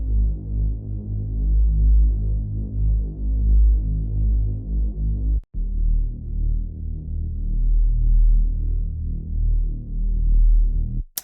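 A low synth pad run through a Respace reverb effect in FL Studio, a dense, throbbing bass-heavy sustained tone with a brief cut midway, steady and loud throughout with no voices.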